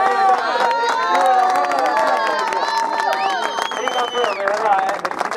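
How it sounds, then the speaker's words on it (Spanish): Crowd at a street drag racing event in Avellaneda cheering and clapping, with loud raised voices and shouts dominating over scattered applause throughout. "Fuerte el aplauso para ellos, ¿eh?"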